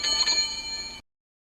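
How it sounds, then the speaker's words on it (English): An old servant bell beside a fireplace rings loudly, a bright metallic trill lasting about a second before stopping dead into silence. "Suddenly, an old servant bell next to the fireplace began to ring loudly, giving Scrooge a shock."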